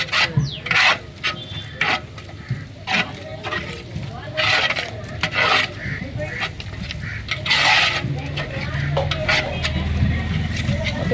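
A spoon stirs chicken gravy in a pot with repeated rough scraping strokes in an uneven rhythm, close and fairly loud, while people talk alongside.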